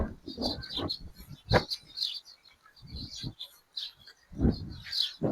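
A flock of birds chirps and tweets in scattered bursts over farmland in rural Saudi Arabia, mixed with low rumbling sounds that could be animals or distant voices.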